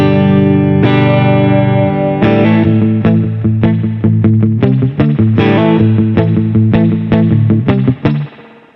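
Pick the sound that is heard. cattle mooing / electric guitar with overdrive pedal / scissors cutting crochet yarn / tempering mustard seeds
electric guitar with overdrive pedal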